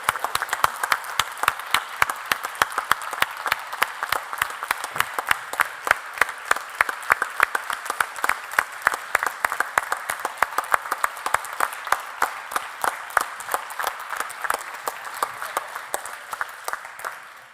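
A large conference audience applauds continuously with dense, steady clapping that keeps going for a long stretch before tapering at the end.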